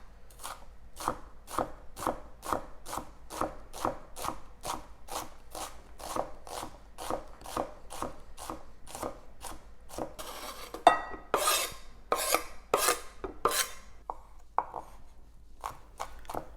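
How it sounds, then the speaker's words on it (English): A knife chops an onion on a cutting board in quick, evenly spaced strikes, close and crisp, followed by a few seconds of rougher scraping and clattering, with no voices. "When you're cutting an onion, always be careful to watch your fingers"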